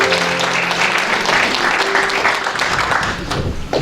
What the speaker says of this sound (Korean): 다시 한번 박수 한번 보내주시죠.